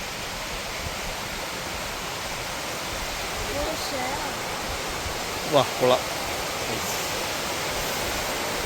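Continuous rushing of a stream flowing down a grassy hillside, steady and close, with a brief voice speaking over it.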